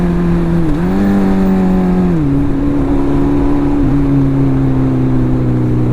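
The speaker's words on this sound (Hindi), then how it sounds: "अब देखो मेरी बाइक लाउड है ना" A Suzuki Hayabusa motorcycle engine holds a loud, steady idle hum, stepping down in pitch a few times as the throttle eases, close and alone with no talking.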